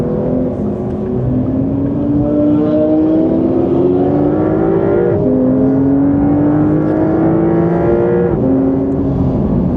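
Engines of fast cars on a race track drone steadily and loudly throughout, with rising pitch sweeps as the cars accelerate and pull past close by.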